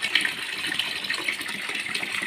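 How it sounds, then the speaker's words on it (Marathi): Water pours and splashes onto a bathroom floor in a steady, close gush, like a running tap spilling over, with no talk. "पाणी सांडलं ना असंच पाणी सांडतंय सारखं इकडं तिकडं"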